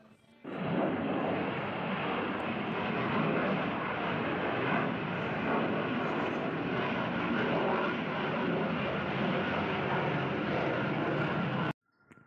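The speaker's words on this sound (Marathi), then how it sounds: "विमानतळ जवळ असल्यामुळे नेहमी विमानं मुंबईच्या दिशेने जात असतात" A passenger airplane flies over a residential area of Pune close to the airport, heading toward Mumbai. Its engine roar is steady, loud and broadband, holding nearly constant for about eleven seconds before cutting off abruptly. No voices are heard.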